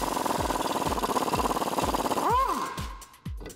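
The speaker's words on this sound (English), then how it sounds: "I'm gonna be using a 21mm socket as well as a 21mm wrench to get that out" Bottom bolt on the driver's side lower control arm of a Jeep Wrangler JK being worked loose with a 21mm socket and wrench: a steady rapid pulsing clatter with regular heavier knocks, ending in a rising squeal and metallic clinks.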